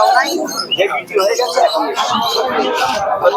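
Pigeons coo and chirp at a busy bird market in Shantipur, their calls mixed closely with steady conversation between people nearby.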